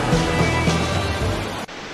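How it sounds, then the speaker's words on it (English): A big waterfall near Ouray, Colorado, heard as a loud, dense, unbroken roar of rushing water that fills the whole stretch, dipping briefly near the end, with no talking. "Big, huge waterfall"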